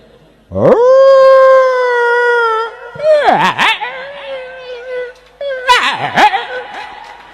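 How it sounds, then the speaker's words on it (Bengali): A female dog lets out a loud, long howl, then two shorter wavering howls that dip and rise, close and clear with no other sound. "এখন মহিলা কুকুর কি কয় শোনেন"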